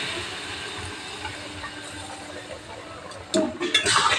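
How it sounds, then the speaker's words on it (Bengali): Boiled peas go into a pan of frying potato and spice mix, giving a steady sizzling hiss that swells into a louder, crackling burst toward the end; no one speaks. "আলু মশলাটা ভাজা হয়ে গেছে, আমি সেদ্ধ করা মটরটা দিয়ে দিলাম।"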